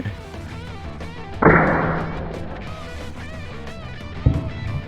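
An airgun pellet strikes a pigeon with a sharp, loud impact thud that cuts through steady background chatter, then fades; a second, shorter thump follows a few seconds later.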